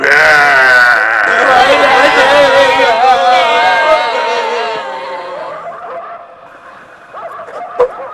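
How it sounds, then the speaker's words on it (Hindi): A flock of Garole sheep bleats loudly and continuously, many overlapping wavering cries that crowd together, then thin out and grow quieter toward the end, with a sharp knock near the close. "उठकर देखो, भेड़ें सब कैसी चिल्ला रही है"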